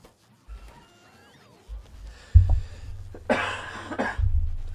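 Several harsh coughs come in bursts at close range, a few spaced apart with quieter throat noises between them, loud against an otherwise quiet background.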